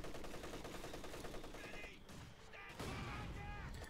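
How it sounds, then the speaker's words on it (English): Rapid bursts of .50 caliber machine gun fire in the Company of Heroes 2 strategy game, dense rattling volleys with a brief lull, and a voice talking over part of it. "they're being suppressed here by the 50 caliber"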